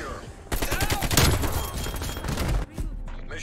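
Rapid automatic AK-47 fire with red tracers in Call of Duty Cold War, loud and continuous for about two seconds after a sudden start, then cutting off abruptly, with a game voice briefly audible.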